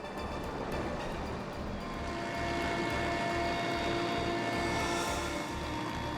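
Inside a helicopter flying over the sunny Crimean coast near Novyi Svit bay, a loud, continuous engine and rotor drone with a steady tonal whine, swelling slightly midway and never pausing.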